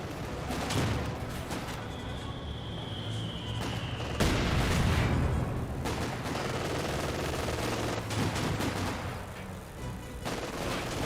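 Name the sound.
anti-tank gun firing in video game Company of Heroes 2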